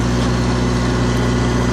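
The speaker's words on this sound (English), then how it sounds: "He's driving the tractor." A steady tractor engine drones on, low and continuous, with an even rumbling hum and no voices over it.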